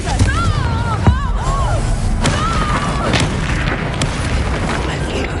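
A Confringo blasting spell bursts in the Hogwarts Legacy video game, a loud booming impact amid continuous battle noise, with whooshing spell effects and a voice calling out.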